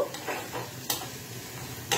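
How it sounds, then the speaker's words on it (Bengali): Onions fry in a pan with a steady soft sizzle, broken by a few sharp scraping stirs of a utensil, close and fairly quiet with no voices. "এই দেখো পেঁয়াজটা আমার বেশ খানিকটা ভাজা ভাজা হয়ে এসছে"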